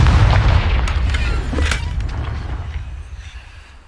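A Confringo fire spell blast in Hogwarts Legacy gameplay: one heavy booming explosion at the start, followed by a few crackling bursts and a long rumbling decay that fades out.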